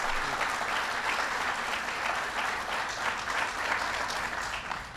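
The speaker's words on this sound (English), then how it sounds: "give Joe Biden a big round of applause" An audience applauds Vice President Joe Biden at an event, a dense, steady wash of many hands clapping that holds at an even level for the full five seconds with no voices on top.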